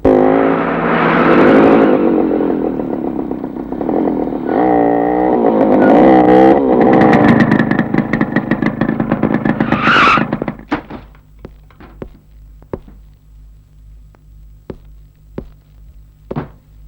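A vehicle in a Tamil comedy film scene swings around and skids, with loud engine roar and tire squeal building to a sharp screech, then thuds and fading noise as it settles.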